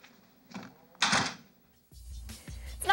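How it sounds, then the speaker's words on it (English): A door shuts with a sharp, close thud, set among a few other scattered knocks and clunks in a quiet room, with no one speaking. "Shut the door."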